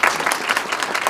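An audience at a public library's grand reopening claps in a dense, even burst of applause that fills the whole short moment, fairly loud and close, with no voices over it.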